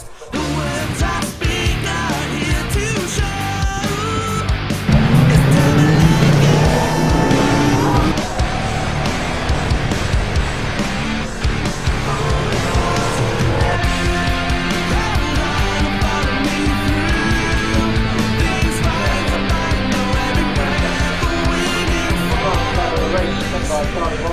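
GT Cup race cars, including Ferrari, Chevron, BMW and TVR, launching from the grid at Donington Park, a loud dense roar of many engines revving and pulling away together with rising pitches and tire noise.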